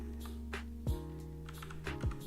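Several quick keystrokes clatter on a computer keyboard, quiet and close, in a few short bursts with brief pauses between them and no talking.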